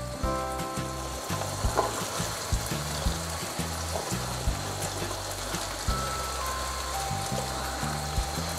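Onion stalks stirred into tengra fish frying in oil for a Bengali tel jhal, a continuous close sizzle with quiet ticking stirs, background music playing underneath throughout, no voices.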